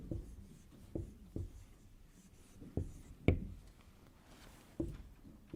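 A pen scratches and taps across paper as a word in Arabic script is written by hand, with close, quiet strokes and sharper clicks at irregular intervals, and no voice.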